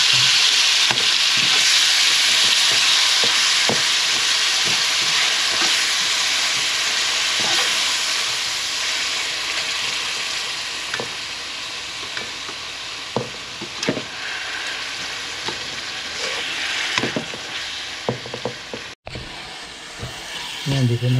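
Tomatoes for ginisang ampalaya sizzle steadily in a hot pan, with a continuous frying hiss and occasional scraping stirs that grow sparser toward the end.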